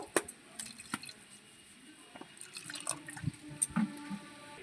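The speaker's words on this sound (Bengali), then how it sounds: "পরিমাণ মতন জল দিয়ে দেবো" Water poured into a pan of mutton curry cooking in a kadai, heard as soft, low splashing and trickling with a few small clinks against the pan, close by and fairly quiet, with no talking.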